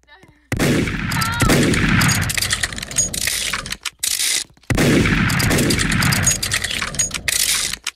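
Unicorn gun in the Roblox game Murder Mystery 2 fires in loud, dense sustained bursts, broken by two brief silent gaps, and no voices are heard.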